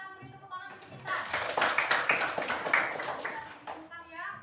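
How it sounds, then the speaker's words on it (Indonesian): Classroom applause breaks out after a short spoken remark, a burst of many hands clapping that swells and continues for a few seconds before tapering, with voices audible around it. "terima kasih untuk kita beri tepuk tangan untuk kita"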